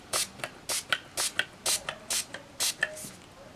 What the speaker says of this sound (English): So a few spritzes of this.